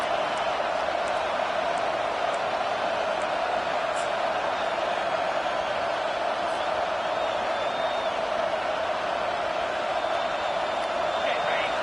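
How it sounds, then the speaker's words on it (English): The home crowd at a Purdue football game keeps up a continuous, loud roar during a third-down defensive stand, with a steady broadband hum and a few whistles and whoops scattered on top. "Here comes this home crowd as the defense tries to get off the field on third down."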